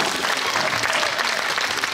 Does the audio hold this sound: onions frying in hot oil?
no